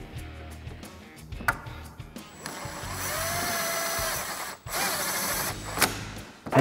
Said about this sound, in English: I'm going to put a swivel and an extension on my 10 millimeter with my gun. Get in here and tighten this one up.